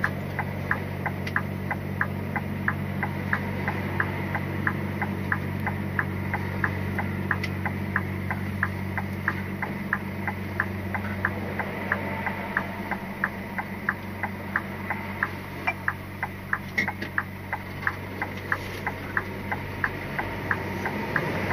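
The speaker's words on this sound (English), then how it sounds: "So I just put the indicator on and it normally lets them know" A car's turn indicator ticks in a steady, even rhythm of about two clicks per second inside the cabin, continuing for a long stretch over a low engine and road hum.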